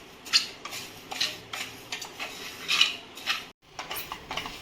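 Fenugreek, fennel and whole coriander seeds roasting in a pan for green chili pickle, stirred with a metal spoon in a series of clinking, scraping strokes with a light rattle of dry seeds.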